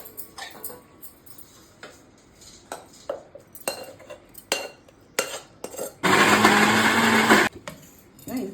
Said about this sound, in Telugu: మిక్సీ పట్టుకుందాము